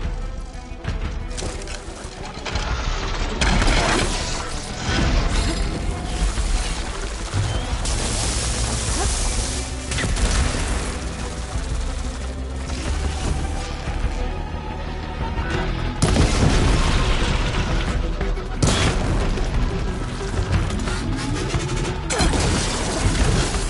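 A ballista fires shots in the video game Horizon Forbidden West, producing loud repeated booming impacts and crashes over a dense, busy game soundscape.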